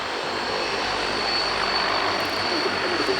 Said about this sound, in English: it allows us to hear an engine note that you simply don't hear, I think, in any other operational aircraft these days